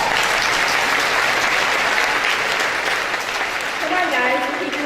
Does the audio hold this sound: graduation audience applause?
yes